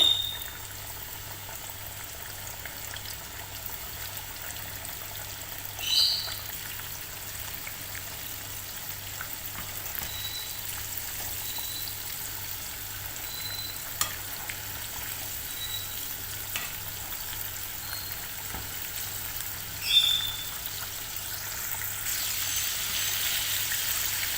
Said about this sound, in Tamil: நல்லா 2 பக்கமும் வேகிற வரைக்கும் இதை பொரிச்சு எடுங்க